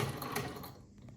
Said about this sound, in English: see if it likes sewing on the crepe de chine fabric